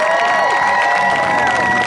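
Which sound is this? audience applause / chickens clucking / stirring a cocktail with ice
audience applause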